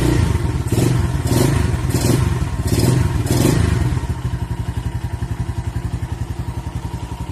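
A Phantom TA200 motorcycle engine revs hard in several loud bursts, then settles into a steady, rough idle with a throbbing, pulsing rhythm.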